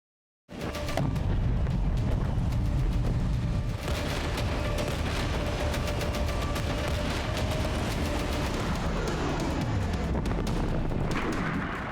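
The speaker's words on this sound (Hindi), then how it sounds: "एक ईरानी मिसाइल शहर में गिरने से जोरदार धमाका हुआ।" An Iranian missile blast strikes Tel Aviv, a sudden loud boom that gives way to a long, dense roar and crackle of rumbling noise continuing for several seconds.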